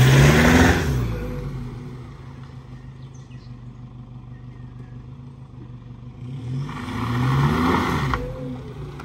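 A 4x4 engine in its highest throttle mode, U9, idles with a low rumble and is revved twice by brief taps of the accelerator, each rev swelling loudly and falling back to idle; close, with no talking.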